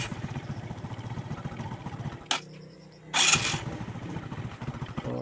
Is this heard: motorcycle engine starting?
yes